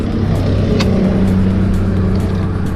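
A Suzuki GSX-R 125 motorcycle engine runs loud and close, a dense, steady buzzing drone with little change in pitch throughout.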